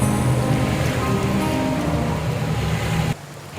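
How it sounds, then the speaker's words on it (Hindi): Steady, dense wash of heavy monsoon rain on the road near Guptkashi, loud and continuous, cutting off abruptly near the end to a quieter background. "और ये लीजिए शुरू हो गई बारिश"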